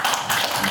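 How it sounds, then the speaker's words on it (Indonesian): Audience at a seminar clapping in a brief, dense burst of hand claps at moderate loudness, with no talk over it. "Oke, tepuk tangan lagi sekali lagi."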